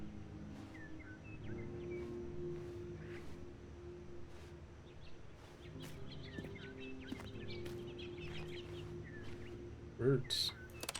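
Faint, scattered bird chirps and tweets in the video game The Stanley Parable Ultra Deluxe, set against a steady low ambient hum with a brief louder burst near the end.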